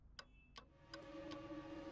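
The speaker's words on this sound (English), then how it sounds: "Seems like the ticking sound precedes each ghost encounter." Evenly spaced ticks come from an Adventure Time episode, about four sharp, clock-like clicks roughly every third of a second, fairly quiet, with a soft hum rising beneath them.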